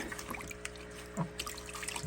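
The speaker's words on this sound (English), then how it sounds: "And I'm just gonna be dumping this water out the window." Dirty water from an aquaponics bucket is dumped out of a window, heard as a faint trickling pour with a few small splashes over a low background hum.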